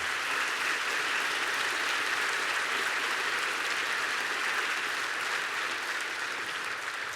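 An audience at a university graduation ceremony claps steadily, an even, sustained roar of applause heard alone with no talking.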